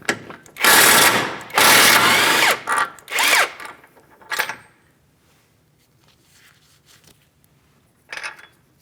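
Power tool, likely an impact gun, spinning off 18mm control arm mounting nuts on a 2016-2025 Chevrolet Malibu: three loud, close whirring bursts, then quieter rattles and one short final burst.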